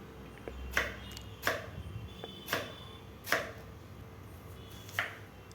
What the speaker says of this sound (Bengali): এবার প্রথমে কেটে নেব পেঁয়াজ, কুচি কুচি করে, ছোটো ছোটো করে